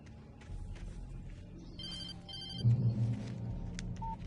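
A telephone rings in the video game Alan Wake Remastered, a repeated electronic ring in a short burst over low rumbling game ambience and a heavier thud, fairly faint and with no talking.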